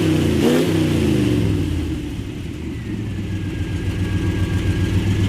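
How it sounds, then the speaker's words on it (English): A 1973 Corvette big block with a new carburetor rumbles while parked, a loud deep engine with one quick rev up at the start that settles into a steady throaty idle. "It's idling good, it's free revving good, standing here, parked, still"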